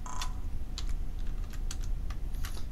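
Computer keyboard typing while entering a line broadening value for NMR spectrum processing, a few quick key clicks in short bursts over a steady low background hum, close and fairly quiet.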